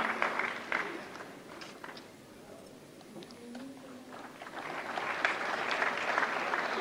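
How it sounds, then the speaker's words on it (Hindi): Steady audience applause fills a large hall at the 69th National Film Awards ceremony, swelling louder toward the end, with a faint voice underneath. "जोरदार तालियों से स्वागत करें."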